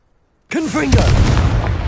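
A Confringo fire spell bursts in Hogwarts Legacy: a sudden loud blast erupts after a half-second of silence, followed by a sustained crackling, rumbling roar, with a swooping voiced incantation at its start.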